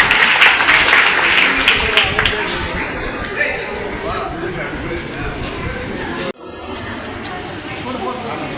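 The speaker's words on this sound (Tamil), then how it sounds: "கைதட்டுங்க." A crowd claps and cheers at a Tamil community association's anniversary celebration, with loud, dense applause and crowd noise that holds for several seconds, breaks off sharply, then resumes at a lower, steadier level.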